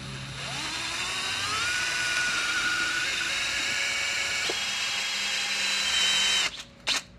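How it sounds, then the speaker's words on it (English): A power drill whines steadily for several seconds, its pitch shifting slightly under load, then stops with a couple of short final bursts. "he's really drilling that crooked"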